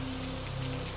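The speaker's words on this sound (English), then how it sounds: "As the rain falls gently outside, let it serve as a reminder that God is washing away every trace of fear" Gentle rain falls outside in a steady, soft hiss with a faint low hum underneath, continuous and even throughout, with no voices present.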